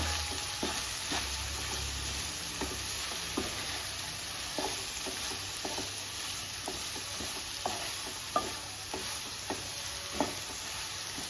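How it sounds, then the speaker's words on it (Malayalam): Sliced onions sautéing with salt in a pan give off a steady soft sizzle, broken by regular scraping stirs of a spatula every second or so. No voices. "അപ്പോൾ അതിൽ തന്നെ ഈ ഉള്ളി ഒന്ന് വാട്ടിയിട്ടെടുക്കാം."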